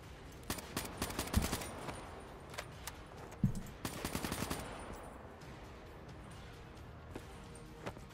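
Gunfire from Call of Duty Black Ops 3 zombies mode: bursts of rapid shots in the first half, trailing off into sparse, quieter pops over a low background.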